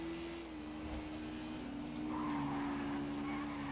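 A motorcycle engine in GTA V, from an XRE 300 against XJ6 street race, drones steadily at close range with a sustained tonal whine that climbs slightly as it accelerates, no speech over it.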